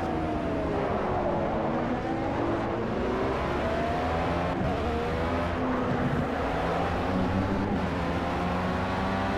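Formula B race car engine in the PC racing game Project CARS, a loud continuous whine that rises and falls as the engine revs up through the gears along a straight, heard alone.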